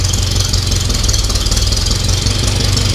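A carbureted tractor engine idles loud and close, a steady rough chug with a high squealing whine layered on top, running continuously with no talk.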